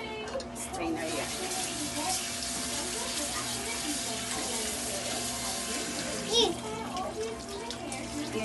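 Tap water runs steadily while 1.5 kilos of beef are rinsed in a strainer, a continuous splashing wash with a brief louder surge near the end and faint voices in the background.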